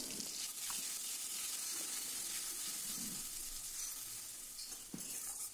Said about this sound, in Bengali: এবার কড়াইতে সাদা জিরে, শুকনো লঙ্কা, তেজপাতা, গোটা গরম মশলা ফোড়ন দিয়ে দিলাম, ফোড়নটা একটু ভেজে ওর মধ্যে পেঁয়াজ বাটাটা ছেড়ে দিলাম